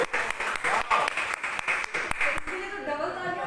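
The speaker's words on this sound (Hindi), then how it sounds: "तो डबल तालियां होनी चाहिए" Crowd applause at a Lahore housing society lucky draw: a steady patter of many hands clapping for about two and a half seconds, then fading as a voice speaks over it.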